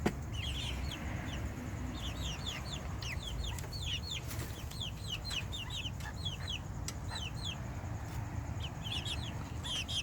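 Backyard hens in an urban coop cluck and chirp steadily in short repeated calls, several birds close by over a low rumbling background, with no voices.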